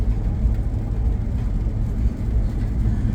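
A Dodge Scat Pack fitted with a Hellcat hood follows behind on the road, heard as a steady, loud low rumble of engine and road noise that holds without a break.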